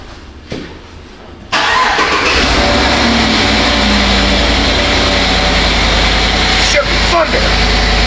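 GMC Sierra pickup engine cranks and starts with a sharp jump in loudness, then settles into a steady, close, continuous idle rumble with brief speech near the start.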